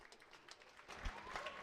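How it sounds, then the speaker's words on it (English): Crowd applause at a women's rugby match between Exeter Chiefs Women and Worcester Warriors Women, a brief, fairly faint burst of clapping that swells in the second half of the moment. "Bit of applause from the crowd."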